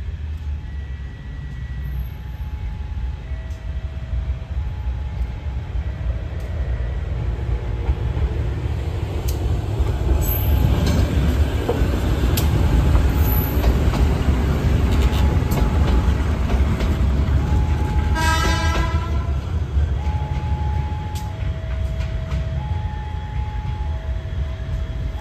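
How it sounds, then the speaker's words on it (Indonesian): A train rumbles steadily closer and passes along the track into Lempuyangan station, its low roar swelling and fading, with a short horn blast partway through. "kereta istimewanya udah masuk di jalur 6 stasiun Lempuyangan"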